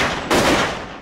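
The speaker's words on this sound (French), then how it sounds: "et puis un coup de feu ici, un autre ici," Gunfire from the film Pulp Fiction: a single sharp, loud shot bursts in abruptly, followed by a decaying echo, with a faint click at the end.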